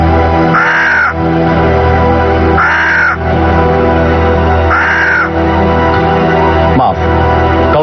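A black crow gives three loud, close, harsh caws at an even pace about two seconds apart, with a faint shorter call near the end.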